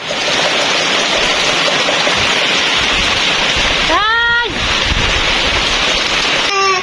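Heavy first rain pouring off a corrugated metal roof, a steady, loud, hissing rush of falling water throughout, briefly interrupted near the middle by a short rising voice or tonal call.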